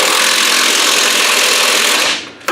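Control arm bolts on a 1992-2001 Toyota Camry are tightened with a torque stick on an impact wrench, giving a loud, continuous buzzing rattle that stops abruptly near the end, followed by a short clank.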